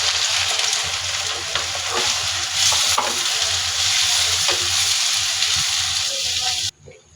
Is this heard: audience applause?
no